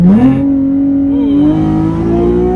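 Nissan 370Z (Z34) on bagged Rocket Bunny-style custom wheels pulling hard down a straightaway, its engine note climbing steadily and loud from start to finish with no talk over it.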